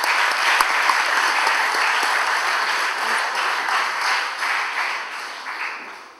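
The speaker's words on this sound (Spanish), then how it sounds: "Un fuerte aplauso para nuestro ponente" Audience applause at an electoral law conference lecture, welcoming the speaker: dense, steady clapping from a sizable crowd, sustained evenly for several seconds before tapering slightly at the end, with no talk over it.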